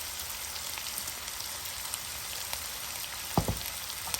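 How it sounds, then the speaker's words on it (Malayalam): Potatoes sautéing with garam masala, coriander powder, asafoetida and salt in a pan, a steady quiet frying hiss with one brief scrape of stirring near the end. "ഇതെല്ലാം കൂടെ ഇളക്കി നന്നായി ഒന്ന് വഴറ്റിയെടുക്കാം."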